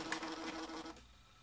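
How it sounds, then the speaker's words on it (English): An HP DeskJet 720C inkjet printer from 1997 powering on, giving a brief close mechanical whir of about a second that then stops. "So now I'm gonna power on the printer"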